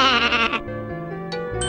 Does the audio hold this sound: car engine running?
no